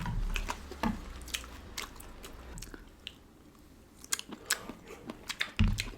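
Someone eats mushrooms up close, with soft wet bites and squishy chewing in irregular bursts and quiet pauses between them. No one talks over it.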